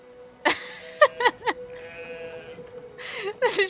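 A video game sheep bleats several times in short, wavering calls, close and clear, with brief pauses between them and a faint background hum.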